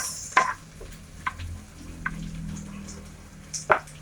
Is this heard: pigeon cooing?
no